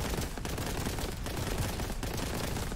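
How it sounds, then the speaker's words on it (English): Rapid, continuous bolter fire in the video game Warhammer 40K: Boltgun, a dense, loud barrage of overlapping shots with a few brief dips, no talk over it. "Oh, we're back to normal bolter gun."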